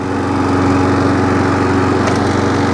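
A small Viking lawn mower engine, just pull-started, runs loudly and steadily right up close, a continuous buzzing drone with no voices.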